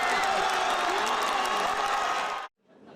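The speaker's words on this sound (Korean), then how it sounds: "8회 말 김태현의 기습적인 홈스틸로 동점을 만들자 관중들의 환호가 이어집니다." Crowd at a baseball stadium, the Daejeon Eagles Park, roars and applauds after a surprise home steal ties the game in the eighth inning, a broad sustained cheer that cuts off abruptly near the end.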